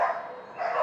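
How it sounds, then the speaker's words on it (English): Dogs bark in two bursts separated by a short gap, heard at moderate distance outdoors in Lima, Peru, fairly loud with no voices over them. "So disrespectful, those dogs."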